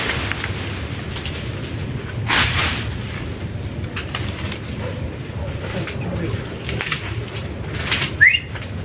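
A brief burst of wing flaps as a bird takes off, followed by quieter flutters amid outdoor background noise.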